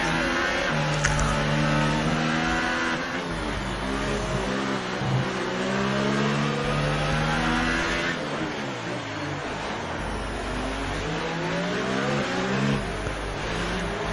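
A race car engine in a Monaco racing video game revs and shifts through gears. The pitch climbs and drops repeatedly in a loud, continuous drone with a steady low rumble underneath.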